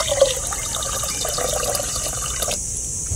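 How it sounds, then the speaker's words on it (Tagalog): Water pours out of a guppy breeding tank in a steady splashing stream, continuous and fairly loud for about three seconds with no talking. "So bawasan muna natin tubig,"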